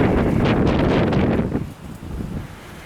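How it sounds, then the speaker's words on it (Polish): Strong outdoor wind buffeting the microphone in a loud roaring rush that eases off after a moment into lower gusty rumbling, in Gdańsk-Wrzeszcz. "bo tu wiatr za duży i ciągle mi czapkę zmuchuje"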